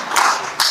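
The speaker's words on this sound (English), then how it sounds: "let's give him a real quick round of applause" Short burst of audience clapping at a kayak fishing tournament awards show, just a few quick claps from a nearby crowd, with no talk.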